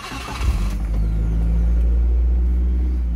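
A Geo Tracker engine cranks and catches, then settles into a loud, steady close-up run with the heater on high during a cooling system flush.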